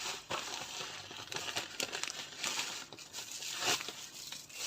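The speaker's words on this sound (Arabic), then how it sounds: "نحطها هنا ونحط فوقيها كيس" A plastic bag crinkles and rustles as it is placed over kneaded bread dough, close and continuous with uneven crackling bursts and no talk.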